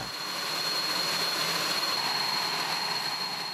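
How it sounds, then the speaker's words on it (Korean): An F-5 fighter jet's engine runs up on the ground ahead of a test flight, giving a steady, loud, continuous roar with a high whine threaded through it. No voices are heard over the noise. "지상 점검을 마친 F-5 전투기가 이번에는 하늘을 날기 위해 엔진을 뜨겁게 달궜다."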